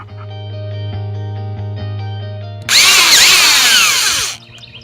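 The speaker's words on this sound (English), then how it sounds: "For each one of the legs, you will be screwing in 2 of these screws." A power drill hums steadily, then bites in with a loud, harsh grinding whine as it drives a screw into a leg of a Skywalker 15-foot round trampoline, close by, then stops abruptly.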